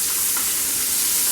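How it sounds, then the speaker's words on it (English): Bay leaf pieces and sliced onion sizzle in hot oil in a pan, a loud, steady, close frying hiss with no pauses, for Bengali fish curry. "make pieces of the bay leaves and add it, and the sliced onion. Now you need to fry it."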